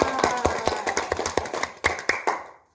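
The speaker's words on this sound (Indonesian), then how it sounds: "Bagus, tepuk tangan." A class of pupils clapping in a microteaching lesson, a ragged burst of sharp hand claps near and fairly loud that thins out to a few scattered claps before stopping.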